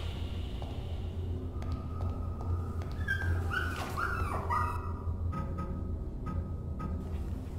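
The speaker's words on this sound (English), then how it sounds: "All I wanted to do was save the dog." Dog whimpering with a few yips and barks in the video game Rewind Or Die, high whines rising and falling midway over a steady low game-ambience drone.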